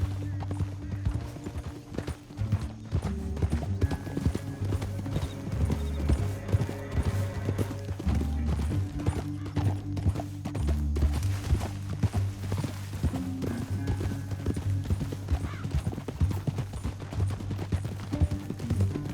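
Hooves clip-clop in a rapid, rolling rhythm as several horses gallop through a canyon in Red Dead Redemption 2, with low rumbling and music layered beneath.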